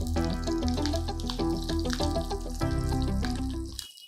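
Green chillies broken in half fry in hot oil with a loud, continuous crackling sizzle. It runs under steady background music and cuts off abruptly near the end.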